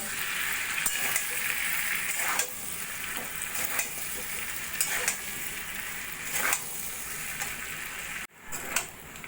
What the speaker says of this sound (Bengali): টমেটোটা দিয়েও ভালো করে কষিয়ে নেব